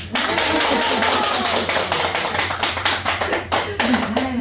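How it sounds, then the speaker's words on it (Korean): Listeners at a Buddhist dharma talk during a Jabi Doryang repentance service clap in a series of sharp, fairly regular claps that grow more spaced out toward the end, with a voice briefly audible. "중간 박수를 한번 쳐야 되겠죠."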